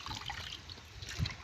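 Fresh water is poured into a container during a processing step, heard as a brief, soft trickling splash without speech.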